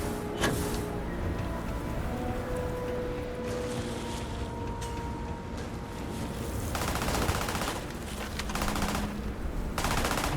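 Video-game gunfire in Starfield while fighting scorpion-like creatures: sustained rapid automatic fire forming a dense continuous barrage, with sharper bursts and shifting game sounds layered over it.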